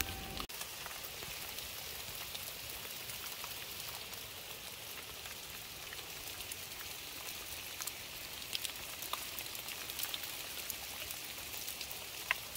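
Hail falls steadily in a mountainous farming area of Al Mahwit, Yemen, a dense continuous patter of many small hits on surfaces, moderately loud and without voices.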